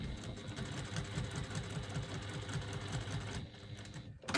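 A sewing machine stitches a quilted pouch, its needle chattering in a fast, steady rhythm close by before stopping briefly near the end.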